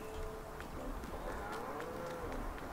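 Cattle in the farming video game Farming Simulator 19 moo repeatedly over steady farmyard ambience, several overlapping low calls spread across the moment with no talk.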